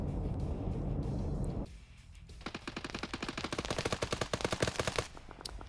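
Machine gun fire in the video game Wargames, a rapid, evenly spaced stream of shots rattling for about three seconds after a stretch of rumbling engine noise, fairly close and steady.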